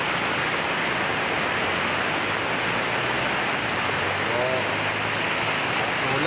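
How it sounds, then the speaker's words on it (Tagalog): On a rainy Sunday, steady heavy rain pours down in a dense, unbroken hiss that fills the whole stretch. "Maulan ang linggo ngayon."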